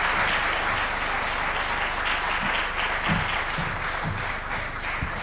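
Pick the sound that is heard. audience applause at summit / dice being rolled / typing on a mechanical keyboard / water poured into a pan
audience applause at summit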